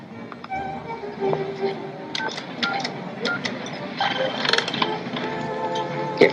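A telephone is dialed to call the police, with a series of short, sharp tones and clicks of the keys, fairly close, mixed with faint background voices.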